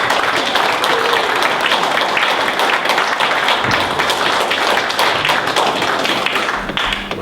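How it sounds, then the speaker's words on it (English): Sustained audience applause for a stage performer, dense clapping that fills the whole stretch at a steady, loud level before easing slightly at the very end. "Give him a round of applause."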